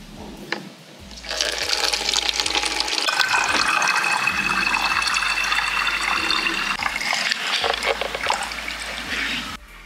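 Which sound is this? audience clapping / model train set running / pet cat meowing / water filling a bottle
water filling a bottle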